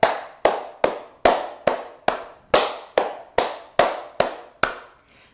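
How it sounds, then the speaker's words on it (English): A music class claps hands in a steady beat, about a dozen sharp, evenly spaced claps ringing out close and loud with no talking over them. "Let's clap six beats."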